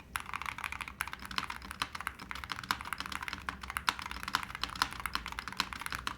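Rapid typing on a Holy60 keyboard fitted with metal keycaps, including spacebar presses, produces close, dense, sharp clicks and clacks in an irregular, busy rhythm.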